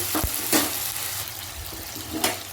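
Spice paste fries in a pan, a soft steady sizzle broken by a few sharp scraping stirs, close and clear with no talking.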